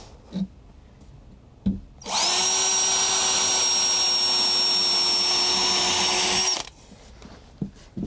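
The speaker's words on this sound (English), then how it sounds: "Let me drill a pilot hole right here." A power drill boring a pilot hole into a floor board, a single loud whining run of about four seconds between faint handling knocks, with quiet before and after.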